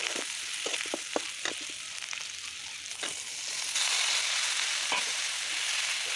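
Shrimp fry in a pan with salt and turmeric in a village kitchen, giving a steady close sizzle with scattered crackles and spatters and occasional stirring scrapes, no voices.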